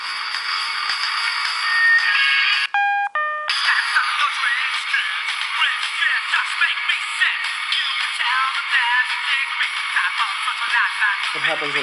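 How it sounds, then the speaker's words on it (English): Song streamed to a small Helium wristband communicator speaker plays thin and tinny, interrupted midway by a brief electronic beeping tone before the music resumes. "We're going to pop in a song here and see how it sounds."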